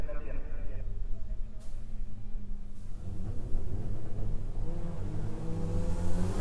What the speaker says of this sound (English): Kevin and Carl warming up their tires right now